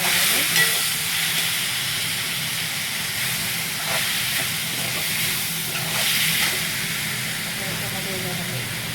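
A stir-fry sizzling with dark soy sauce for Schezwan and Hakka noodles, a loud continuous hiss with swells of stirring and scraping throughout.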